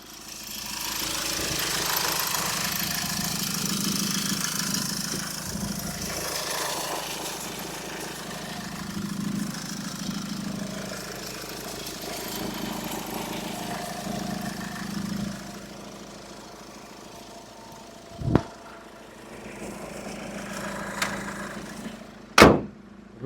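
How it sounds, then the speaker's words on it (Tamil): A 2012 Force One diesel engine idles with the microphone held close, giving a steady, low rumbling chug that is loud and continuous, then softens toward the end, broken by a few sharp clicks. "வண்டியோட இன்ஜின் சவுண்ட் எப்படி இருக்குன்றதை நான் மைக்கை பக்கத்தில் வச்சு காட்டுறேன்"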